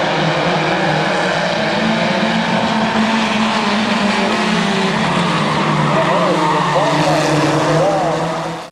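Race cars roar around the oval at Midvale Speedway in a constant loud engine drone that swells and fades as the pack circles, with a steady wash of track noise throughout.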